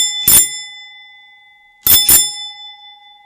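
Doorbell ringing twice indoors: a bright bell-like chime, then after a pause of over a second a quick double ring, each with a lingering tone, loud and alone.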